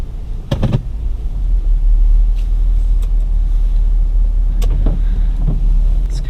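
A Lexus GX470 SUV with high mileage runs with a steady low engine rumble while driving, with a few brief clicks and thumps from the cabin on a wet, cold day.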